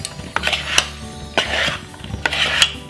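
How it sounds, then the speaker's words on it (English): Chicken pieces are tossed in a bowl with olive oil, rosemary, garlic, salt and pepper, making three loud, close scraping, rattling swishes with short pauses between them. "let's give these a good toss, making sure they're coated pretty good with the olive oil, the rosemary, the garlic, and the salt and pepper"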